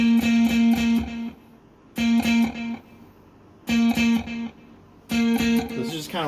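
Electric guitar played through a pedalboard of effects, a basic tone with delay, octaver and chorus available, heard as four loud sustained bursts of bright, harmonically rich chords with brief pauses between them, no talking over the notes.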